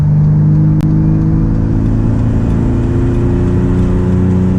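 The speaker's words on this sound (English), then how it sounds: "we're going to do a 35 to 65 test in third gear, just to give me a baseline" A BMW E30 pulls hard in third gear from 35 to 65 mph, its engine droning loud and steady close by with a gradually climbing pitch.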